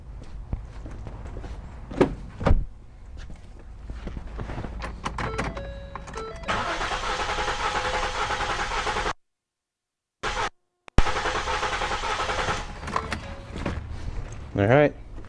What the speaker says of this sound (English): Let's crank this over and let's see what we get.